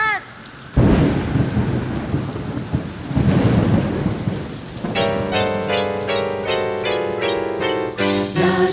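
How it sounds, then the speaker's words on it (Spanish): Heavy rain pours with a rumbling roll of thunder, loud and close, and then a bright musical tune with chimes comes in over the storm. "¡Ya está lloviendo!"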